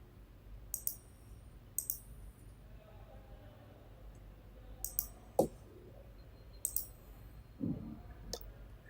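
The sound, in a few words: computer mouse clicking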